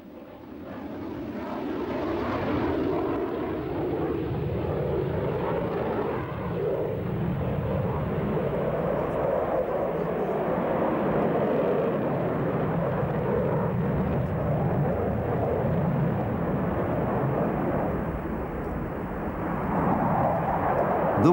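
MiG-29 fighter jet in flight: a steady, loud, broad engine roar that holds for the whole stretch with little change, no talk over it.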